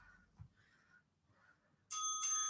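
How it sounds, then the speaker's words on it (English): A bell rings out to signal the start of an exercise round at a home workout session, its bright, sustained tone coming in abruptly after a few quiet, faint background noises. "The bell has donged."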